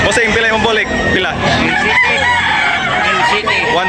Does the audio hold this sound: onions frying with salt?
no